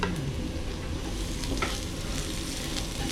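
Garlic and onions sauté in a hot pan for a Filipino white menudo, giving a steady close sizzle and frying crackle throughout with occasional stirring scrapes, and no voices.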